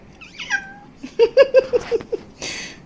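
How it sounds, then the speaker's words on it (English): A cat meows several times: a drawn-out mew, then a quick series of short, evenly spaced chirpy meows, close by, ending in a breathy noise. "That was a cute meow."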